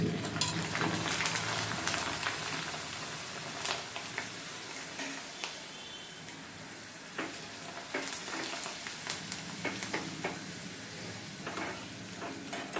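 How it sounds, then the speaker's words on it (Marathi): Rice flour kurdai frying and puffing in a kadhai of hot oil, a steady dense sizzle with scattered sharp crackles and pops running throughout, close and fairly even in loudness. "आता तुम्हाला मी काही कुरडया इथे तळून दाखवते"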